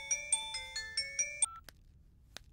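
A phone ringtone plays a quick repeating melodic pattern of bright electronic beeps, fairly faint, then cuts off, leaving near silence with a couple of soft clicks.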